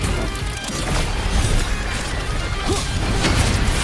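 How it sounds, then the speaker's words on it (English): A mortar blast in the video game Wuthering Waves, heard as a loud, dense crash and rumble that fills the clip, mixed with continuous game effects and music. "Another mortar thrown at us."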